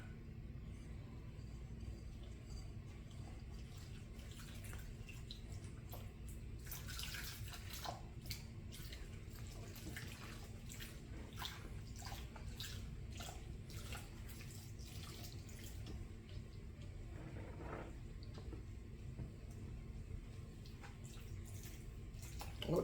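Water trickles little by little into a bowl of fish cake batter, a faint, continuous soft pouring with scattered small splashes and drips over a low room hum.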